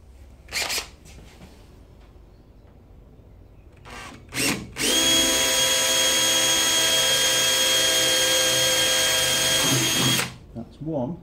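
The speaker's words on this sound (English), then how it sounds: "2 holes to drill." A power drill bores holes for motorcycle trailer lights, first with a couple of short trigger blips, then one loud, steady whine lasting about five seconds before cutting off, with handling noises around it.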